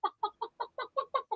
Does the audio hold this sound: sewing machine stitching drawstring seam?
no